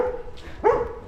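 A dog barks on a street in Brasov, Romania: one faint yip followed by a louder, sharp bark close by, with no talking.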